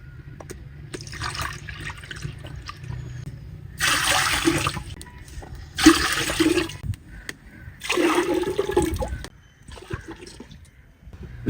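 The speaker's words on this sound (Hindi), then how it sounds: "पानी देते हैं।" Water is poured into a pot of soaking lentils for Sialkot-style dal in a home kitchen, coming in three separate splashing gushes of a few seconds each, with quieter handling sounds between them.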